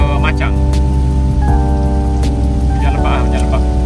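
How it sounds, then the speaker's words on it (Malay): Heavy monsoon-season rain drums steadily on a moving car on a road in Kelantan, Malaysia, a dense continuous wash with a low engine hum and sustained tones running underneath. "Hujan lebat."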